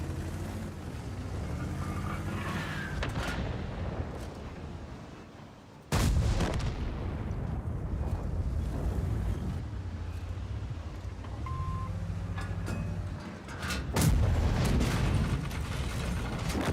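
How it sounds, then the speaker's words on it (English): Artillery shells landing around a tank in the World of Tanks video game, with heavy booming impacts and blasts over a constant rumbling engine and clanking tracks, two especially sharp loud hits standing out. "I've lost like all my health to artillery so far."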